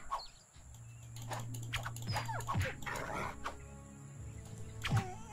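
A wolf in the fantasy role-playing game Two Worlds yelps and whimpers in short bursts during combat, over a steady low game hum and bright clashing effects.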